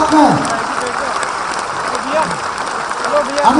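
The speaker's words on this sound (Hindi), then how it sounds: "पूरा सदन खड़ा होकर जोरदार ताली के साथ में" Standing audience at a Jat summit in Jaipur applauding steadily and loudly throughout, with a voice speaking over the clapping.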